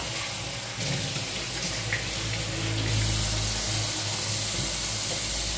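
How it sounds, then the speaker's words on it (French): Steady running water from a tap splashing into a sink while hands are washed, with faint movement under the continuous flow. "Là j'ai lavé mes mains"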